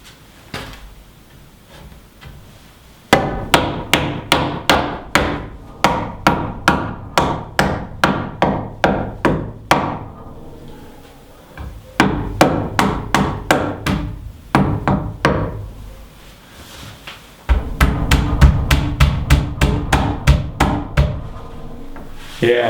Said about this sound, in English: Time to hammer these things in.